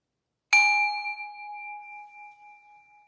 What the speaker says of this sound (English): I'm going to ding the bell.